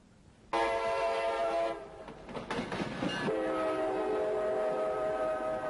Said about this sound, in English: This is the Lackawanna Ramble, a nostalgic train ride arranged by the Jersey Central Railway Historical Society and NJ Transit.